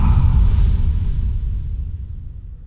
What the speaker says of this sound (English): It's a super nice sound design hit, and it's from the pack Sci-Fi Atmospherics 2